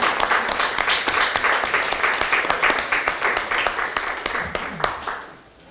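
Audience at a party joint committee meeting claps for a committee chair, a steady round of applause with distinct individual claps that tapers off at the end.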